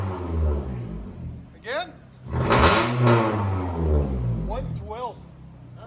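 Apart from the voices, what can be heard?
2010 Scion tC revving with straight-pipe exhaust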